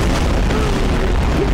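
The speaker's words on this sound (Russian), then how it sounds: "Вот 6 взрывов в одном." Several explosions in the video game Garry's Mod blend into one continuous loud, booming roar with a heavy low rumble that fills the whole moment, with no voice over it.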